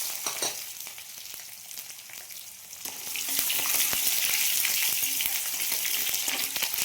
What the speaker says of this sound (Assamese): তেলখিনি গৰম হওঁতে শুকান জলকীয়া দিছোঁ, তেজপাত দিলোঁ, লগতে অলপ পিঁয়াজ দিলোঁ।